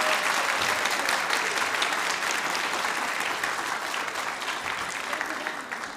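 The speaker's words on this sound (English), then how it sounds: "Please give them a big round of applause once again," Audience applause for children who have just performed at a devotional gathering at Bhaktivedanta Manor, a full crowd clapping steadily and loudly, easing slightly toward the end, with no talk.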